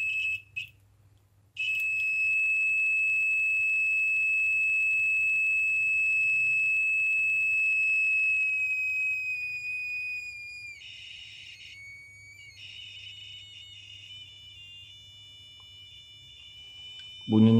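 Active piezo electronic buzzer driven by battery voltage gives a steady high-pitched tone that holds, then wavers and breaks into choppy bursts as the voltage changes, with a low hum underneath.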